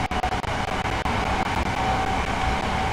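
An LNER Class 801 five-car passenger train rumbles steadily past with a continuous broadband roar, a few sharp clicks from the wheels early on, and no voices.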